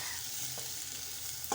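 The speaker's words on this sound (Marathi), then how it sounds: "मिश्रण छान एकजीव करून घेत आहे।" A spoon stirs an onion and boiled potato mixture in a frying pan, a soft steady sizzle with a couple of faint scraping strokes, close and quiet with no talk.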